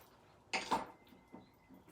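A small frankincense essential oil bottle is set down on a tiny table, giving two quick close clinks followed by a fainter tap, with no other sound around it.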